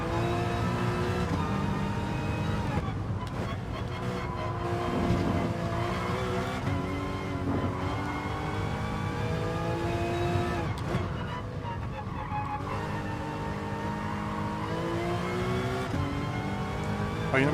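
Race car engine in Assetto Corsa Competizione at the Nürburgring Nordschleife, revving steadily and shifting through gears with rising and falling pitch, continuous and loud throughout.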